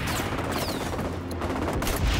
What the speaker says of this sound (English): I think it was a grenade, right?